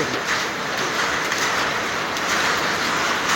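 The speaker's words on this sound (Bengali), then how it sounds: "হালকা হালকা পাথরও পড়তেছে, দেখতে পাচ্ছেন।" Heavy rain with small hailstones pouring down outdoors, a dense, steady hiss and patter that stays loud and unbroken throughout.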